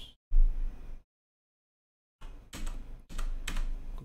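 Quick bursts of typing on a computer keyboard, a short flurry of clicks, a pause of silence, then two denser runs of keystrokes close up with no talking.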